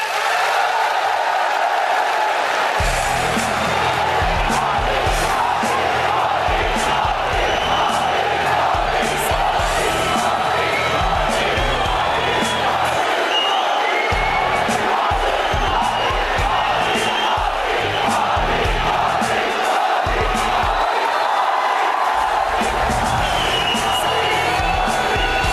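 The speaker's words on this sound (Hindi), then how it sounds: "अगर आप नरेंद्र मोदी की बातों पर विश्वास करते हैं तो हाथ उठाकर ताली बजाकर समर्थन करें।" A large audience at a televised interview with Prime Minister Narendra Modi claps and cheers, a dense, loud roar of crowd noise that holds steady throughout, with shouts and whoops rising over the sustained applause.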